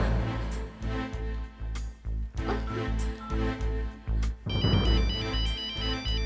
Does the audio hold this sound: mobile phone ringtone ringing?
yes